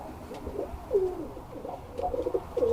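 Birmingham Roller pigeons give soft, low cooing calls in a loft, several rolling coos in succession close by over a quiet background.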